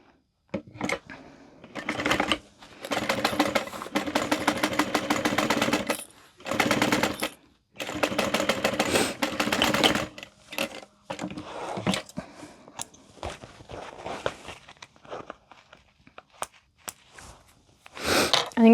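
A sewing machine stitches a handbag in rapid mechanical bursts, several runs of a few seconds each separated by pauses, then lighter intermittent stitching, close and loud with no speech.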